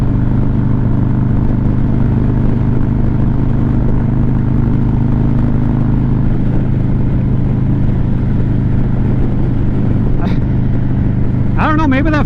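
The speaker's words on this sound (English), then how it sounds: "even at 80 miles an hour, and you crack the throttle" A 2024 Harley-Davidson Street Glide cruising at about 80 mph, a steady loud engine drone mixed with heavy wind roar, with someone talking over it throughout.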